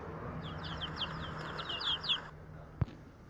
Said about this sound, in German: Das Küken.